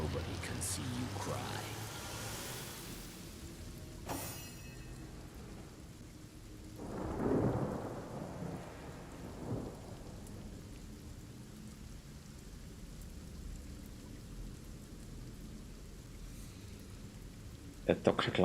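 Video game rain patters steadily while thunder rumbles low and long a few times, swelling then fading, with a brief sharp crack early on.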